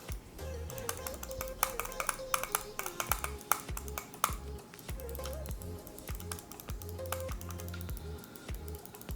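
Buttons on a budget Redragon gaming mouse clicked close up in irregular runs of sharp, crisp taps, some quick and clustered, others spaced apart, over a faint background hum.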